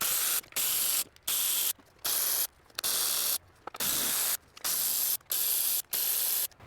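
Ratchet loosening 10 mm bolts on a Ford Flex 3.5 EcoBoost valve cover, a rapid raspy clicking in about eight regular bursts separated by short pauses, close and clear.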